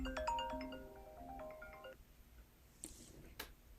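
An outbound call ringing on a phone or computer dialer, a short burst of bright electronic ring tones fading out, followed by a couple of faint clicks and quiet.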